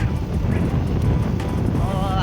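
Wind rushes steadily past on a cool hillside road near a dam, a constant low roar and buffeting rumble that never lets up, with no clear voices.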